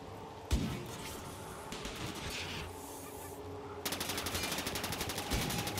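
Defensive guns in the RimWorld video game fire in dense, rapid bursts: a loud crack opens, then continuous rattling fire runs throughout, with a sharper, brighter volley near the end.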